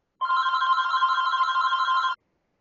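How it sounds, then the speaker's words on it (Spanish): A telephone bell rings in one steady, continuous electronic burst of about two seconds, loud and close, with silence before and after and no talking during the ring. "¿Qué teléfono está sonando?"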